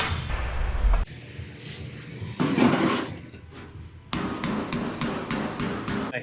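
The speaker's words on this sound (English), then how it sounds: "it has the pecking hammer that pecks down your little bit high spots" Body hammers working sheet metal on a 1967 Shelby GT-500 Mustang during restoration bodywork, a quick run of sharp metallic taps near the end after a couple of duller knocks, close and loud, with no talk.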